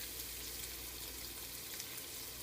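Flour is stirred into melted butter and onion in a pan, giving a quiet, steady sizzle with faint scraping near the end.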